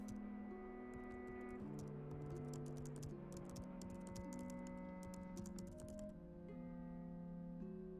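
Keyboard typing in the video game Telling Lies, a fast run of faint clicky keystrokes over sustained droning musical tones.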